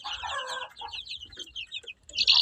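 Several hens cluck and chatter close by in a backyard coop with young chicks, with a burst of sharp, loud squawking near the end and a low rumbling background throughout.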